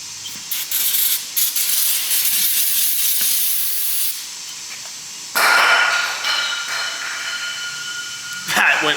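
A can of California-compliant brake cleaner sprays in long, loud hissing bursts, one broken by a short pause and another starting with a sharp rush, close and harsh.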